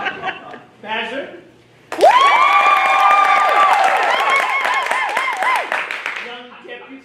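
A moment of talking gives way to a burst of clapping and laughter from a theatre audience, followed by a voice resuming at the end.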